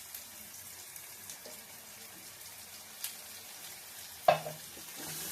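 A paste of coriander, ginger, cumin and pepper fries in a pan for chilli chicken, making a quiet, low sizzle with occasional soft stirring knocks and one louder clank of a utensil.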